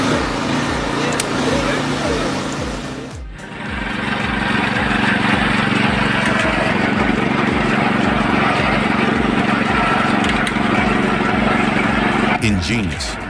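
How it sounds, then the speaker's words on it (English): A Spalt Garat Mobile EHG80 hydraulic firewood splitter working dense hardwood gives a loud, steady mechanical drone with a brief dip partway through, then a sharp shift in tone near the end. "The Spalt Garat Mobile EHG80 splits dense hardwood in mere seconds, delivering raw, unrelenting power with surgical precision."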